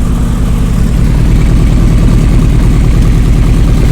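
A cheap Honda CB motorcycle with leaking carburetor floats runs at a steady idle, a loud close low rumble with an even pulsing beat and no speech.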